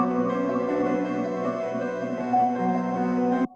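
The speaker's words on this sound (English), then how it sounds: "With the piano, it sounds like this." A Wurlitzer electric piano loop layered with piano plays dense sustained chords in a boom bap beat, fairly loud and continuous, changing chord near the end before cutting off abruptly, with no talking.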